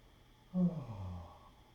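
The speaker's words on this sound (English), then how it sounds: "And now yawn." A single person yawns once during a cranial nerve assessment, a short breathy, low voiced yawn that swells and then fades over about a second, close and alone.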